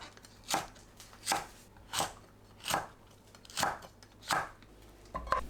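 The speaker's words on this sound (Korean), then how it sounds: "홍고추를 어슷 썰어줍니다." A knife slices red chili peppers diagonally on a cutting board, giving six or seven crisp, evenly spaced chops, close and clear with no voices.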